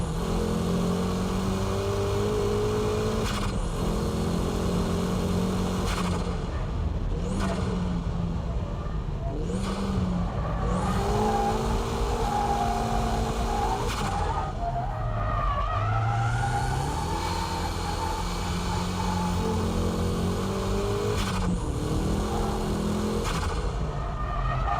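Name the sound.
race car power drifting through a corner exit, tires skidding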